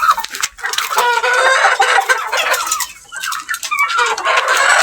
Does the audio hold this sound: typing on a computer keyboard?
no